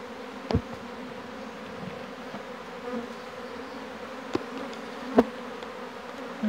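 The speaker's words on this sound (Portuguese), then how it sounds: "Enxame bem populoso, muita abelha." Honeybees drone in a thick, steady hum from a crowded, opened Apis hive during an inspection. A few faint knocks from handling the hive frames sound over the top.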